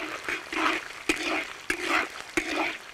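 Scallion, ginger and garlic hitting hot oil in a wok, a close, moderately loud spluttering hiss that swells and fades in waves, broken by a few sharp clacks of a utensil.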